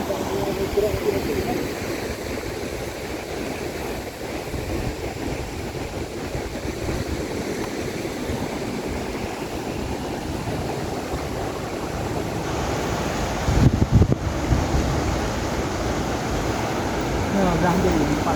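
A river rushes steadily after a flash flood in Pidie Jaya, Aceh, with a broad, constant churning roar throughout. A brief louder splash or knock comes near the middle, and faint voices sit under the water.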